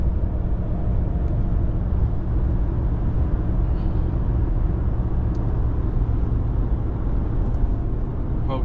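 A 2021 Ram 1500 pickup with the 5.7 Hemi V8 climbs a mountain road in fifth gear while hauling wood, its engine drone steady and loud from start to finish, with no talk.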